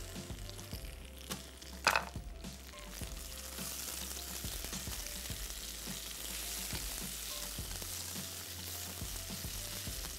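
Sliced onions frying in a pan on a stove hiss with a steady, dense sizzle, with a sharp clatter near the start and low appliance hum beneath.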